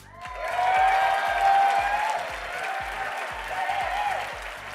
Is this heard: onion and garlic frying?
no